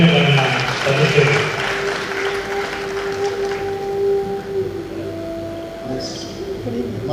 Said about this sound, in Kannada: ಸಭಿಕರೆಲ್ಲರೂ ಚಪ್ಪಾಳೆ ತಟ್ಟುವುದರ ಮೂಲಕ ಅವರಿಗೆ ಅಭಿನಂದನೆಗಳನ್ನು ಸಲ್ಲಿಸಬೇಕು